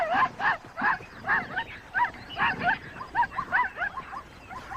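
African wild dogs on the Linyanti River in Botswana call in a rapid series of short, yipping twitters and whimpers, repeated rhythmically at moderate distance over faint background noise.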